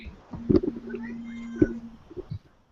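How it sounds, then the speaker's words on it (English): A cat meows a few times, short calls with one drawn-out cry, fairly close in a quiet room. "Oh, I hear Kitty Cat."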